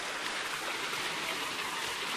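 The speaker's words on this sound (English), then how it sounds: "And then down here, that's the creek." Gentle creek water flowing in a wooded hollow near a waterfall, a soft steady hiss and babble, fairly quiet and continuous with no voices.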